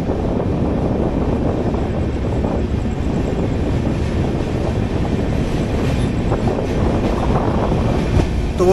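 A passenger train running out of Sealdah in rainy Kolkata toward New Mal Junction, heard from inside the coach: a steady rumble and rattle of wheels with wind buffeting, constant and moderately loud, with no talk.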